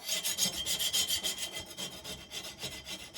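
A scraper drags repeatedly across softened pine wood in quick, rhythmic rasping strokes, close and clear, with no talk.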